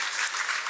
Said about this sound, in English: Give them an amazing round of applause